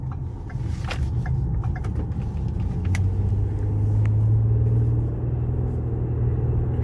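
A Ford Explorer rolls along and turns onto a road, its engine and tyres giving a steady, loud low rumble from inside the cabin, with a slight rise in engine tone midway.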